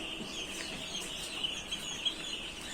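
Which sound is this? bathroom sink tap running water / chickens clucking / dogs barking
chickens clucking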